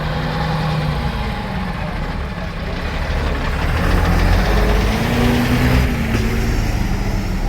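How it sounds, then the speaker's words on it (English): A vintage bus engine idles at a bus rally, a loud, steady low diesel rumble with a constant throbbing beat, close by and unbroken, rising slightly in the second half. "Lovely engine there."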